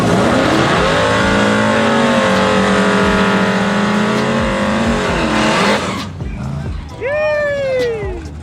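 A race truck's engine revs loud and sustained during a shakedown pass, holding a rising, throbbing drone before cutting off abruptly, followed by a brief high whine as people talk nearby.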